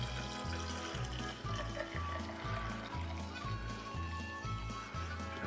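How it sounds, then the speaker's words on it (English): Liquid pours steadily into a preheated vacuum flask during yogurt making, a faint continuous trickling and filling sound with a gentle pulsing rhythm, alone and close. "as soon as I pour this into the flask"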